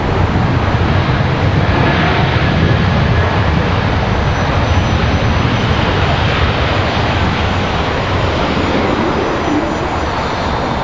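An American airliner arriving at Washington Dulles airport produces a loud, continuous jet roar that stays steady and close throughout.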